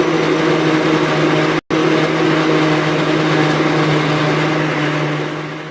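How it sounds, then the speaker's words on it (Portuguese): A kitchen blender whirs steadily as it purées homemade tomato sauce, a loud, constant motor roar that cuts out for a split second and then resumes at the same level, with no voices. "O molho todinho no liquidificador, tirei só a folha de louro e agora eu vou bater"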